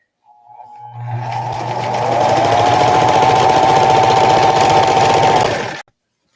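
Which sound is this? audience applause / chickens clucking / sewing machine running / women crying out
sewing machine running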